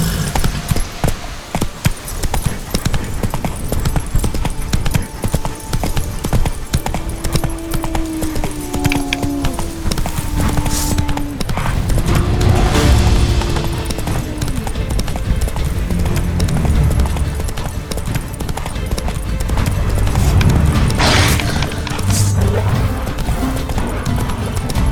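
The horse Roach clip-clops on its hooves in The Witcher 3, a steady run of hoof beats close by over an ambient game backdrop, with a brief whinny mixed in.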